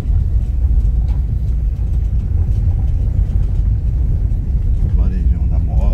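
A car rolls and rattles over a stone-paved street in the small historic town of Serro, Minas Gerais, with a continuous heavy rumble and jostling vibration throughout, close and steady.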